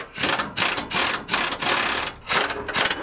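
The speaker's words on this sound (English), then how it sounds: "Then I tried a half inch drive air wrench." A half-inch drive air wrench working on stuck bolts in a shop, loud close bursts of rapid hammering buzz, about five in a row with short gaps between.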